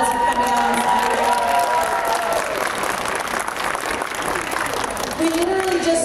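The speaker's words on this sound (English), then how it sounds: "Can we give them a round of applause for coming out on Saturday?" A school audience applauds a student string orchestra at Heritage Woods Secondary School, sustained clapping with some cheering and scattered voices throughout.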